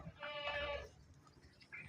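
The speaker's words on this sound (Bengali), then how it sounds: "বিভিন্ন প্রজাতির ছাগল এখানে পাওয়া যায়।" Goats bleat on a farm where several breeds are kept, a single drawn-out, wavering bleat close by lasting under a second, followed by quieter farmyard background with a faint second call at the end.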